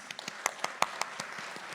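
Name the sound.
audience applause for co-hosts and partners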